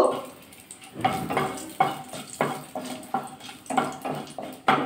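A spoon stirs black cumin seeds and dried chillies tempering in hot oil, giving about a dozen rhythmic scraping strokes over a soft, steady sizzle, close and with no talk.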